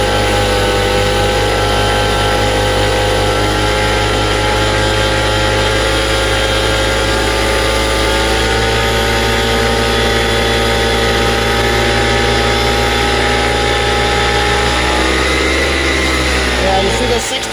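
A 78cc two-stroke paramotor engine with a tuned exhaust pipe runs loudly at high revs, holding a steady raspy drone and then shifting pitch near the end as the throttle changes.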